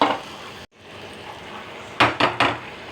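Chili powder and salt fried in a pan for masala dal, with a steady low sizzle broken by a brief gap, then three quick scraping strokes of a spoon against the pan near the end, close and clear.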